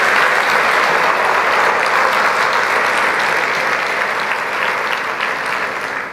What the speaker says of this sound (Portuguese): Você pode dar uma salva de palmas para o Senhor?